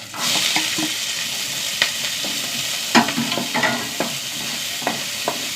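Sliced onion sautéing in hot oil with crushed ginger, garlic and green chillies, a steady close sizzle broken by the repeated tapping and scraping of a spoon stirring the pan, with no voices.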